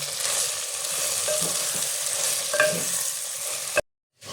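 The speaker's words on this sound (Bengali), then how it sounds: "এবার একটু করে নেড়ে নেবো এটা আমি।" Ground spices frying in a pan for Bengali-style handi chicken, stirred with a steady sizzle and a few soft scrapes, ending in a brief cut to silence.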